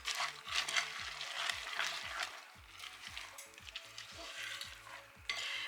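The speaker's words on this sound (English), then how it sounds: "I can give these a stir to incorporate them." Sultanas and nuts are stirred into a tomato soup cake batter in a bowl, giving continuous close scraping and wet squelching strokes at a steady, brisk rhythm, with no talk over it.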